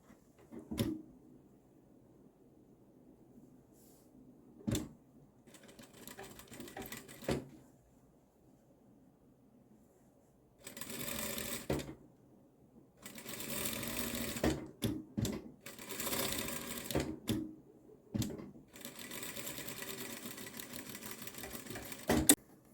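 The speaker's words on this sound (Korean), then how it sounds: "자 그대로 박음질 해볼게요." A sewing machine stitches a pocket seam on a linen vest at a 1 cm allowance, running in several bursts of steady whirring separated by quiet pauses and small clicks, close and clear.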